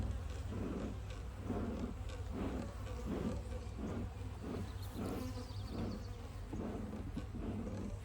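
Bees buzzing around a hive with honeycomb, a dense, close swarm hum that pulses in a regular rhythm over a steady low background drone.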